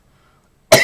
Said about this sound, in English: you're coughing so much that I'm curious